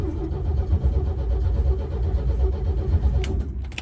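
Old 1972 Chevy C10 pickup engine cranking while it tries to start on fumes, a rough, continuous low churning from close by lasting a few seconds, with a couple of sharp clicks near the end.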